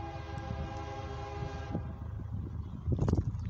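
A westbound CSX grain and mixed freight train approaches. A sustained horn sounds first, then cuts off, leaving a low rumble of wheels and engines that grows louder toward the end.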